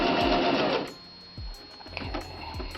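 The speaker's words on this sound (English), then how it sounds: "I'm going to do a reverse stitch." A sewing machine stitching a McCall's M7960 skirt hem runs in a loud burst, stops, then makes short reverse-stitch runs with mechanical clicks and thumps.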